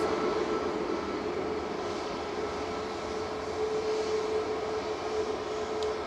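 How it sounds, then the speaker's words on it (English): Boeing 737 MAX 8 departing Manchester Airport for Antalya, a steady broad jet roar with a sustained engine whine, constant and fairly distant throughout, no voices. "This is heading off to Antalya, TC SME, flight 595. It's Boeing 737 MAX 8."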